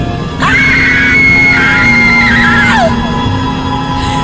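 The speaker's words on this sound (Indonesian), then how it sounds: "Aku lantas berteriak histeris berkali-kali." Loud, hysterical screaming in a horror radio drama: one long, sustained high-pitched shriek that wavers and breaks off with a falling wail, heard alone over a steady hum.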